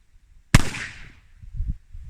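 A single sharp, loud report from an 1851 Navy revolver with an 1871 cartridge conversion, fired at a 13-yard target, rings out once and then decays into a short echo.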